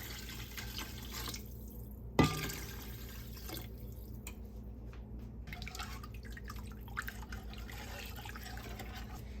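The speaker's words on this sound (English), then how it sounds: "Next, we're going to add 6 cups of water." Six cups of water are poured into a pot of coconut masoor dahl, a quiet steady trickling and dripping with one sharper splash early on, heard close and alone.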